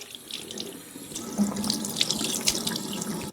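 Water runs steadily from a bathroom tap into a sink while a face is being rinsed, splashing close by with small irregular spatters.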